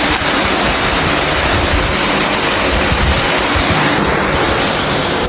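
Groundwater gushes in a strong stream into a 60 to 65 foot well. It makes a loud, continuous, close rushing roar with no voices.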